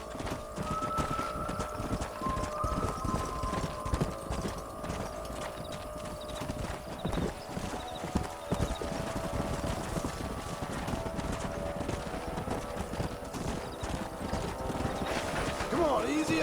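Steady clip-clop of horse hooves with occasional whinnies in the video game Red Dead Redemption, mixed with voices talking over a busy background.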